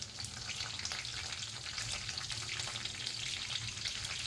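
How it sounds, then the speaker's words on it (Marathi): Curry leaves and garlic sizzle in hot oil with a dense, continuous crackling fry and faint stirring. The sound is close and steady, with no talking. "आणि मग त्यामध्ये आपण आता टाकणार आहोत कढीपत्ता."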